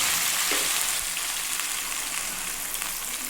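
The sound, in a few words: fried spice mix added to hot oil, sizzling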